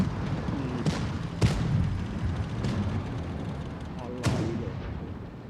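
Tank cannon shots in the World of Tanks game land as several sharp, heavy booms spaced a second or so apart over a rumbling battle background, with excited talking mixed in.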